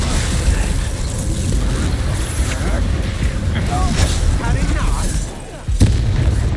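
Confringo and Bombarda spell blasts in the Hogwarts Legacy video game, loud booming explosions and rumbling combat effects that go on without a break, with a short drop before a final burst.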